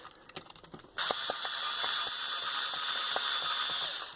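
A ratchet-style posi screwdriver working on a Thomas toy engine sets up a dense, steady whirring rattle that starts abruptly after a few light clicks and holds loud and close until the end.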